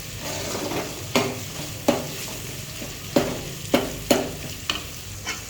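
Bitter gourd curry with quail and turmeric stirred in a pan over village-style heat, a steady sizzle of frying broken by sharp scraping clacks of the spoon against the pan at irregular intervals, close and alone.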